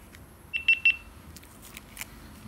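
A GoPro Hero9 Black action camera powering on gives three short, high, evenly spaced electronic beeps, fairly close, with faint soft handling noise afterward.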